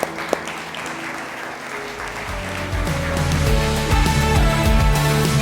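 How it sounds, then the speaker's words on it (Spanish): A church congregation claps together, steady applause rising and swelling under music, with held organ or keyboard tones becoming more prominent toward the end. "¿Por qué no damos una ofrenda de palmas todos juntos?"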